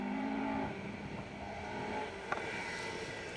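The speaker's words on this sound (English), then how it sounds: "I'm sure you want to hear more of the cars than me." Rally cars, including an RS 1600 Escort, run a Welsh Rally Championship forest stage at Plains Rally, heard as a faint distant engine drone rising and falling with a brief sharp knock midway.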